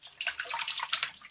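Tap water running for a hot rinse after a shave with a vintage 1966 Gillette Super Speed razor and Van Yulay Oud to Jasmine soap, a steady splashing rush with no talk.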